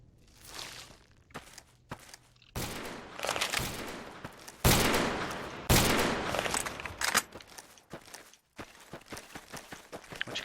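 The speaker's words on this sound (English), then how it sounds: "What you guys shooting at?" Gunfire rattles through a Fallout New Vegas battle in bursts of loud shots and automatic fire, mixed with running footsteps and irregular pauses between volleys.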